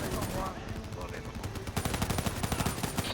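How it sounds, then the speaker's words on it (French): Rapid automatic gunfire rattles in the video game Call of Duty Black Ops 3, a dense burst of close shots after a stretch of battle noise and brief voices. "Dirigez vos tirs vers les Hadav."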